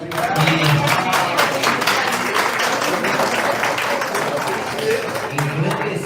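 An audience at a literary academy event applauds a performer with continuous, fairly loud clapping, while a voice speaks over the ovation.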